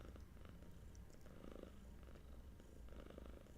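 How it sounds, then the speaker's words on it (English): A young cat purring steadily up close, a continuous low rumbling throb with rhythmic breath cycles and no voices. "they're officially young cats now"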